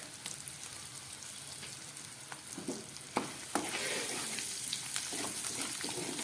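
Potatoes sizzle in a pan with salt and turmeric, a soft steady frying hiss at close range with scattered crackles and a few stirring scrapes, fairly quiet and without voices.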